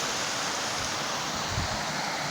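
A clear river stream near Zakopane flows continuously, a broad even wash of rushing water with no distinct events.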